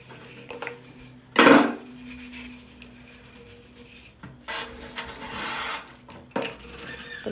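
A soaked water bottle is washed at close range, with one loud rubbing scrape near the start followed by softer scrubbing, sloshing and brief clatters.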